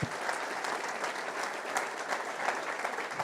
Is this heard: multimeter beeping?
no